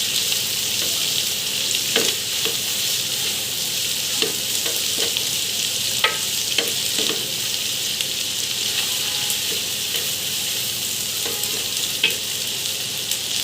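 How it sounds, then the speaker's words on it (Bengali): Carrots sizzle steadily in hot oil in a pan while a utensil stirs them, giving a constant bright fry hiss broken by soft scraping taps, with no voices. "গাজরটা একটু নাড়াচাড়া করে তারপরে আমি অন্য সবজিগুলো দিয়ে দেবো"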